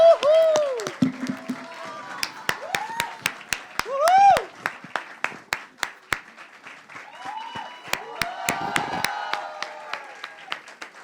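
Audience applause welcoming a legendary singer onto a stage at a live event: scattered, fairly close handclaps with whistle-like rising tones, swelling in bursts over several seconds.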